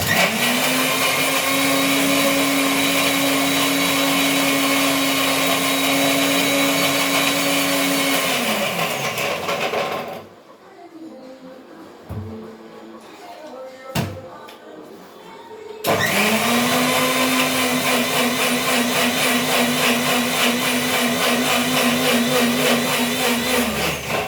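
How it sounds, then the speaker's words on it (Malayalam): A kitchen mixer grinder whirs loudly while grinding chopped grated coconut, two long steady motor runs separated by a quieter pause of several seconds, no talking. "കുരുകുരു അരിഞ്ഞ തേങ്ങ നമുക്കൊന്നിങ്ങനെ അടിച്ചെടുത്തതിന് ശേഷം"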